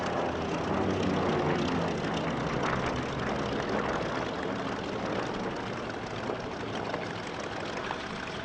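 A Corsair propeller fighter flies past at an airshow, a continuous dense engine drone, loud and close, holding steady and easing slightly toward the end.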